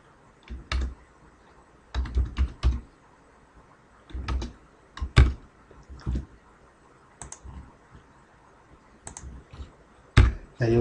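Bursts of clicky keystrokes on a computer keyboard, close and fairly quiet, arriving in short irregular clusters separated by pauses, with no talking.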